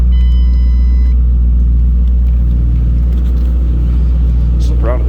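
A 2006 Ford Mustang Saleen S281 convertible with the 4.6 liter engine idling nearby, a loud, steady deep rumble that holds even throughout, with a brief higher whine near the end.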